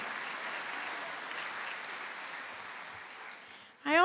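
A medical school commencement crowd claps steadily in a large hall, a soft, even wash of applause that slowly tapers before a voice cuts in at the end.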